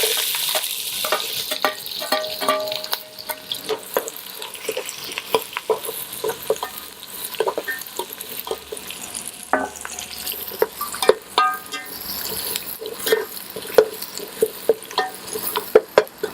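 Onions frying in a pan for a beef liver fry, with a continuous hissing sizzle and frequent close scraping and clattering stir strokes throughout, loud and near, with no talking.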